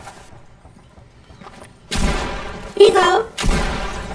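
Gunfire in Fortnite as a player shoots an opponent: a loud burst of booming shots arrives after a quieter stretch, with a second blast near the end, while excited voices shout over it.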